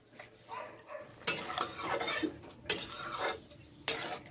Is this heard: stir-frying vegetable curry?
yes